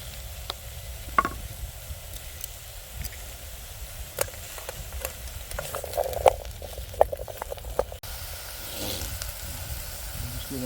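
Spring onion sizzling in oil in a pan over an outdoor Trangia stove, a soft steady crackle with scattered pops and clicks of stirring, fairly quiet with faint background.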